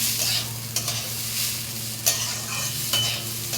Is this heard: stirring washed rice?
yes